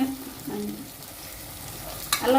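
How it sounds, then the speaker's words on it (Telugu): Ginger garlic paste fries in a pan for a spicy mutton leg curry, giving a steady soft sizzle with stirring scrapes and a louder clatter of the spoon near the end, with no talk. "అల్లం వెల్లుల్లి పేస్ట్ వేగుతుందండి"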